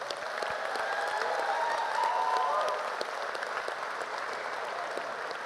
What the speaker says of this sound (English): to give a big round of applause for Principal Dad.